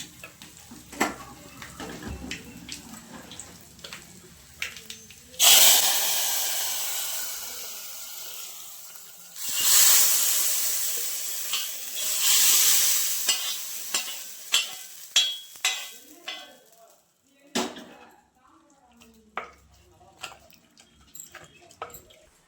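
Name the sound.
tempering asafoetida and spices in hot oil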